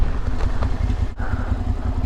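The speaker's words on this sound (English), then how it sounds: "A little windy." Steady wind rushes and buffets across the microphone during a motorcycle ride on the Peak to Peak Highway, with a constant low rumble and a brief dip near the middle.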